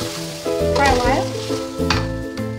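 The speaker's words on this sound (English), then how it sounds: "Next, we'll fry our squid." Squid fries in a hot pan for a seafood baked rice dish, giving a loud crackling sizzle with spatula stirs and scrapes that come in two bursts, close by.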